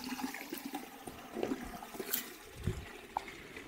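Water gushes and splashes from a hose while a tank is being filled on a road trip in Bellingham, Northumberland, a fairly quiet continuous rush with no talking.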